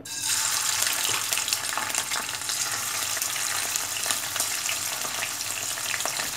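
Prawns fry in a hot pan, giving a loud, close, continuous sizzle and crackle that holds steady throughout with no voices.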